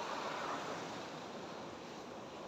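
Steady roar of Pacific Ocean surf, a broad continuous wash of breaking waves with some wind noise, no voices.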